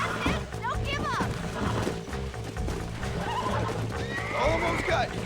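A horse in Red Dead Redemption whinnies and snorts repeatedly while being broken in, its loud neighs rising over steady clip-clopping hooves and in-game ambience.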